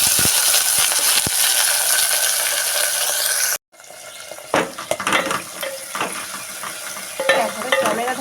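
Onion dropped into hot tempering oil for a fish-head chechki, a strong close sizzle that briefly cuts out, then settles into crackling frying with repeated stirring and clinks of a utensil against the pan.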